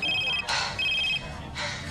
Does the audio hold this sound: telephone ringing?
yes